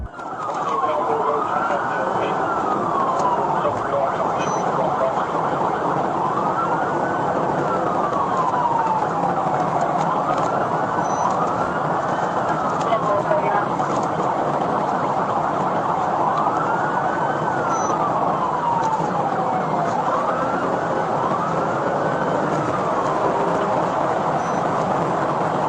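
Police car siren wailing in a steady rising-and-falling cycle during a high-speed pursuit on a state highway, loud and continuous over constant road and engine noise.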